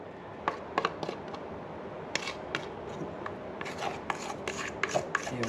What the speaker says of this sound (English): we'll just scrape out all that mixture